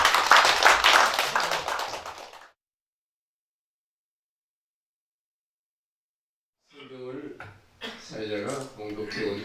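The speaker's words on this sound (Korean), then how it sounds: "우리 두 분을 축하, 감사, 박수를 한번 쳤으면 좋겠습니다" A church congregation at a golden 50th wedding anniversary service claps for the couple, a short burst of applause mixed with voices that fades out, then silence before a person starts speaking.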